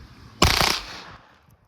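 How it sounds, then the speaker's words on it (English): A Taurus TX22 pistol with a forced-reset trigger fires ten .22 LR rounds in one very fast burst, a brief loud rattle under half a second long that fades into echo. "That was 10 rounds of 22 long rifle."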